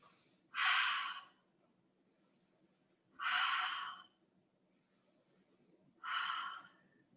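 Three slow, deliberate breaths, each a soft airy exhale about a second long, during a held yoga pose in a quiet room with a faint low hum between them.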